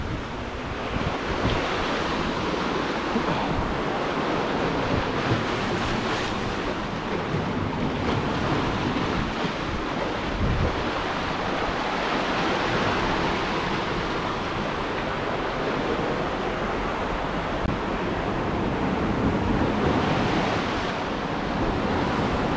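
Sea surf surging continuously against a rocky shore at Ap Lei Chau, a loud, unbroken wash of waves with wind buffeting the microphone throughout.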